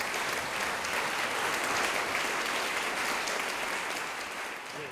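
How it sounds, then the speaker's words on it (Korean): A hall audience at a Korean history rally for the 100th anniversary of the March 1st Movement claps in sustained, dense applause, loud and even for the whole stretch before easing slightly at the end. "여러분 박수 좀 부탁드립니다."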